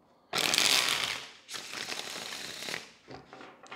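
A deck of tarot cards is shuffled in several quick, crisp rustling runs, heard close up and alone.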